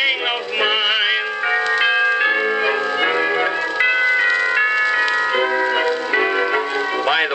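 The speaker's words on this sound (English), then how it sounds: "Bill, don't you get a lonesome feeling when you hear those church bells chime?" Chiming church bells ring in steady layered tones throughout an old recording, sustained and fairly loud, with no speech over them.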